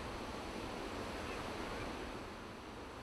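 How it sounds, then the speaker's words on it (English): Steady ocean waves and choppy surf off the California coast during a stand-up paddleboarding competition, a continuous broad wash of water and wind with no distinct breaks. "So the waves, we love them."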